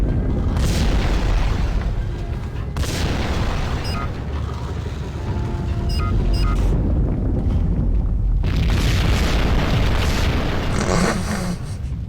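Explosives blow up in the Max Payne video game, heavy booming blasts with rumbling low ends and crackling debris, two big detonations separated by a short lull, loud and close, with no talk.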